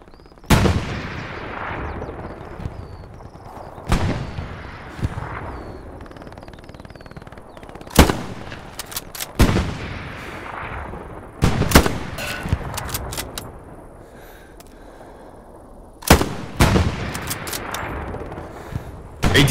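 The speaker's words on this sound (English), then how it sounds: "they're shooting at me" Gunfire in Hell Let Loose aimed at the player, loud sharp cracks arriving in irregular bursts of single and clustered shots, some echoing, over a quiet background.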